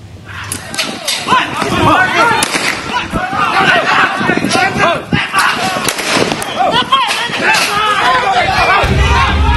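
Repeated sharp warning gunshot cracks ring out amid a loud, shouting crowd during a police raid, with a voice speaking over the commotion.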